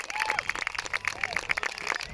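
Spectators at a Formula Offroad event in Iceland clap and cheer outdoors, scattered sharp claps mixed with crowd noise and a few shouts.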